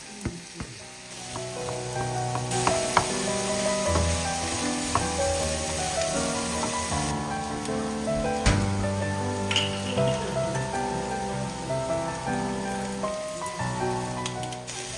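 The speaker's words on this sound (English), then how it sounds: "we want to saute the veggies in a pot" Chopped vegetables and onions sauté in a pot, a steady close crackling sizzle with light stirring scrapes running throughout and no talking.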